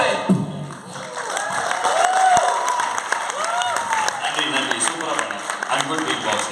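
A live audience applauds and cheers at a Tamil independent-music showcase: steady, dense clapping from a crowd with cheering voices mixed in throughout.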